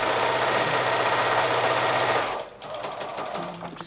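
A sewing machine stitches fat-quarter quilt patches with a steady, loud mechanical whir for about two seconds, then slows to softer, uneven clattering as the run finishes.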